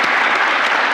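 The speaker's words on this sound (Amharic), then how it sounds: "አጨብጭቡለት።" Studio audience applauding for a fifth-grade student contestant on an Ethiopian quiz show, a dense, loud burst of clapping filling the whole brief moment with no voices over it.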